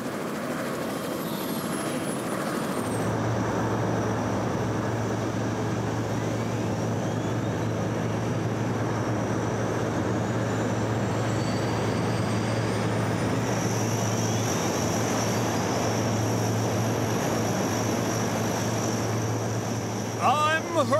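Propeller engines of a Hercules transport plane on a rescue team, a loud continuous droning roar that holds steady for the whole stretch with no breaks.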